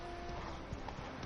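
Roach, Geralt's horse in The Witcher 3, clip-clops along the outskirts of Novigrad in a short, steady run of hoofbeats under a bed of ambient game sound.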